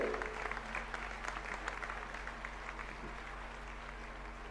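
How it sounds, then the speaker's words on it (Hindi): Crowd applause fills a religious Panchkalyanak gathering in Guwahati as the governor is welcomed. The clapping is dense and steady throughout, fairly soft and somewhat distant, with no voices over it. "कृपया जोरदार तालियों से महामहिम राज्यपाल साहब का स्वागत करें।"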